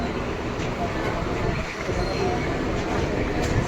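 A train runs with a continuous broadband rattle and rumble of the carriage, and voices are heard faintly over it.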